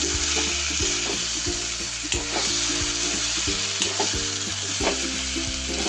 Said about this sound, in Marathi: छान सगळा मसाला तेलामध्ये चांगला भाजून द्यायचा